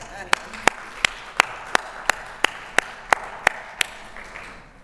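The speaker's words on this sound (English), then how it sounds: "give yourself applause" Clapping at a panel event on inclusion: about a dozen sharp, evenly spaced claps at a steady, moderate pace, crisp and fairly close over faint room tone, more like one rhythmic clapper than a scattered crowd.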